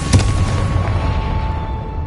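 Confringo blasting spell going off in Hogwarts Legacy: one loud booming explosion near the start, then a sustained rumbling wash that slowly fades, with a steady tonal hum running underneath.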